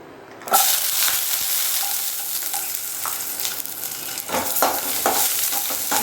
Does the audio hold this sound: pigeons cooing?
no